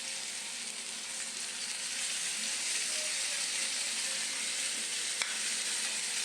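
Spice paste goes into vegetables already seasoned with salt and turmeric in a hot pan, producing a steady, even sizzle and hiss of frying for several seconds, with faint stirring and no talk.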